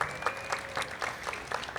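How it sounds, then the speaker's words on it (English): Audience clapping at an outdoor ribbon cutting for a street bikeway, a steady patter of hands with soft crowd murmur, moderately loud and continuous for the short stretch. "Let's give her a round of applause."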